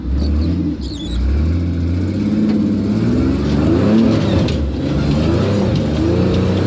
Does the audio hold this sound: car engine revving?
yes